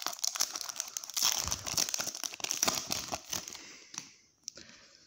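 A foil trading card sachet from a Polish football card box is torn and crinkled open close up, a continuous crackling, rustling tear for about four seconds before trailing off into a few faint crinkles.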